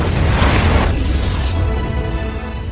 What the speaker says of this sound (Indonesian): ledakan besar pun terjadi dan menghancurkan The Hive serta membunuh Alicia